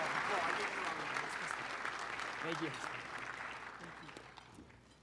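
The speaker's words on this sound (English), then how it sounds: "A round of applause." An audience at a hockey awards banquet applauds in a sustained, dense burst that gradually fades, with a brief spoken thanks partway through.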